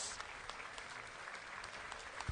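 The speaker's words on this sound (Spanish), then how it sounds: "Fuerte los aplausos." Steady applause from fans at a Veracruz league baseball game during a ceremony honoring guests, somewhat distant and even throughout.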